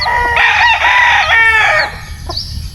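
A white kelso rooster crows loudly and close by, one full drawn-out call with a clear harmonic rise and fall, followed by a faint short cluck at the end.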